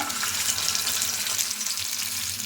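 Shami chicken kababs lowered into hot oil on a tawa for shallow frying, giving a loud, dense, continuous sizzle heard up close with no voices.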